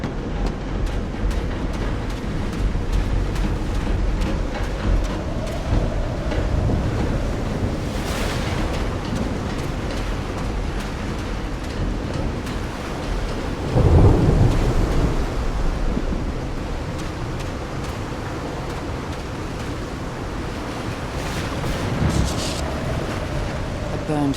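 A thunderstorm in Call of the Sea, with steady rushing wind and surf-like noise the whole way through, broken once by a loud swelling rumble of thunder partway in.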